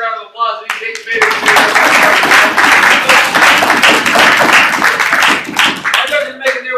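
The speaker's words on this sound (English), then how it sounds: "I'd like to invite you to join me in giving another round of applause." Audience breaks into loud, sustained applause for eight debaters at a debate event, rising sharply after a short spoken lead-in and fading as a voice resumes near the end.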